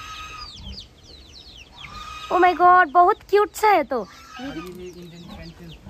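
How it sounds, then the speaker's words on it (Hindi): Village chicken clucks in a rapid series of loud, close, squawky calls, with birds chirping in the background and someone speaking softly before and after. "कैसा वाला मुर्गी है रे ये तो?"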